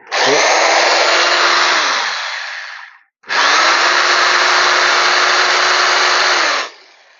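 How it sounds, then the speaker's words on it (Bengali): An 800W Total Tools rotary hammer drill runs in screwdriving mode in two long bursts, a loud steady motor whine spinning up, holding, then winding down, with a brief silent gap between runs. "এটা ছিল স্ক্রু ড্রাইভিং মোড"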